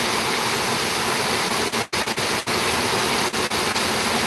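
Heavy rain pours down in a steady, loud, dense hiss that fills the whole clip without letup, with only a few brief dips near the middle and no talk over it.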